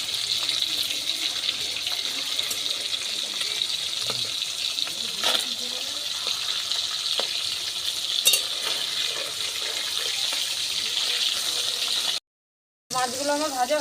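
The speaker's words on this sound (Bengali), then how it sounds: "মাছগুলো আমার ভাজা হয়ে গেছে," Hilsa fish fry in a pan with a continuous close sizzle and crackle, broken by light stirring or turning scrapes and a brief gap near the end.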